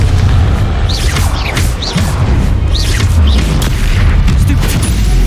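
Booming spell explosions from the Confringo spell in the video game Hogwarts Legacy go off repeatedly over dense battle noise, loud and close, with shouted incantations and whooshing effects layered throughout.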